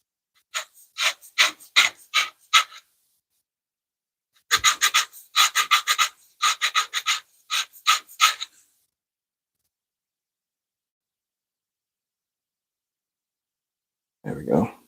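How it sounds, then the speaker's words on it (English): A wooden grill fork handle being sanded by hand in two bursts of quick rasping strokes with a pause between them, close and distinct, followed by a short rustle at the end. "Try to sand some of that off."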